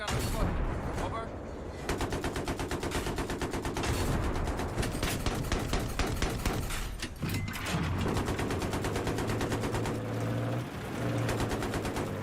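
Rapid bursts of enemy machine gun fire in a Battlefield 3 Conquest match on the Haven map, dense repeated rattling with short gaps, overlapping other game effects and occasional voice chatter.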